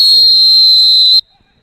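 A football referee's whistle at a high school game sounds one long, loud, steady blast lasting just over a second before cutting off abruptly into near silence.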